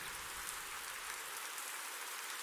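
Rain falls in Euro Truck Simulator, a soft continuous hiss of drops near a lake, steady and fairly quiet with no talk.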